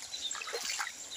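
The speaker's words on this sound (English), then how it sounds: "you can see this is just a stream from the far end there" Water trickles and splashes in a small stream on a farm, a brief, close, bright burbling with no voices.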